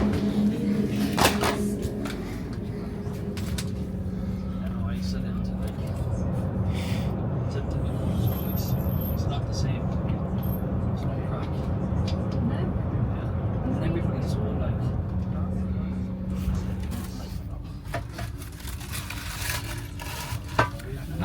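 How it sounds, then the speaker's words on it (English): Cabin noise aboard a standard double-decker regional train in motion, a steady low rumble and hum under the wheels with occasional knocks and rattles, and a person speaking over it at times. "Standard double-decker regional train."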